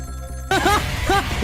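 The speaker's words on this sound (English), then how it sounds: "About 2 hours before dawn, the phone rang" A telephone rings in the Ghost Trick: Phantom Detective video game, a short electronic trill repeating twice in quick succession after a burst of background music, with no talk over it.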